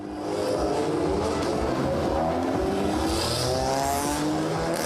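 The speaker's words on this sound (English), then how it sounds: "Then the 20 Cup racer finalists made their way to the starting grid." Cup race cars rolling out to the starting grid, engines droning steadily and loud with rising and falling revs, several cars close together under a continuous mechanical roar.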